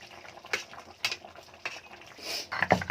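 Garam masala spices are ground on a stone shil, giving several separate scraping and knocking strokes at about half-second intervals, then a brighter cluster of clinks at the end, close and fairly quiet.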